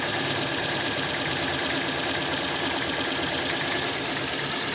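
A 2007 Ford Fusion engine idles evenly with a dense, continuous mechanical clatter and hum, heard up close without any speech.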